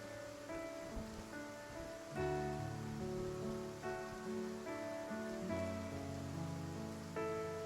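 Steady rain falls in a scene from the video game Love and Deepspace, a soft continuous patter under a gentle melodic music bed, with no voices.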